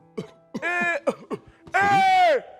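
A voice produces a few stylized coughs in a sequence, tonal and exaggerated, ending with a long drawn-out cough-like sound.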